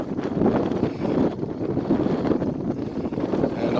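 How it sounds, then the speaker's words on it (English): Strong gusting wind buffets the microphone while sailing a small boat in around 20 to 30 knots, a loud continuous roar with rushing water underneath and no voices. "And all of a sudden it's gusting more out here,"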